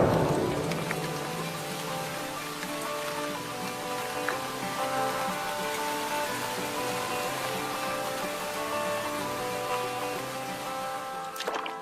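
Steady rain falling and pattering on surfaces, a continuous even wash of drops heard alone with no voices.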